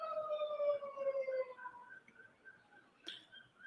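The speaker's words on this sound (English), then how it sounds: "Those sirens are responding to more pants on fire." Emergency sirens sound outside during a trial, faint and distant, their wavering tones gliding slowly downward and fading over a few seconds.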